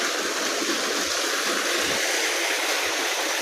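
Water gushes steadily from a running farm water pump motor beside paddy fields, a loud, continuous rushing wash with no pauses.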